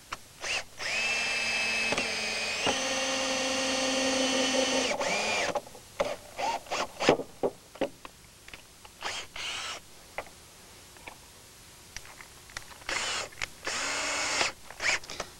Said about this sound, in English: And we would go around and drill a